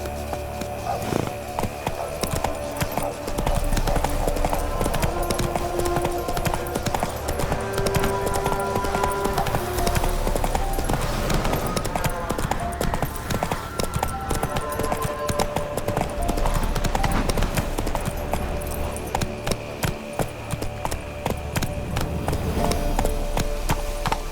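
Horse hooves clip-clopping at a steady gait in The Witcher 3: Wild Hunt, a continuous rhythmic clatter mixed over game music and ambience.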